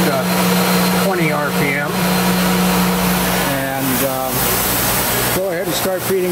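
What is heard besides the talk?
industrial screw press running for dewatering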